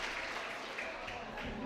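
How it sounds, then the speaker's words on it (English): Applause from a workplace conference audience, steady and fairly soft across the room, a dense wash of clapping with no clear individual claps standing out. "give yourself a round of applause"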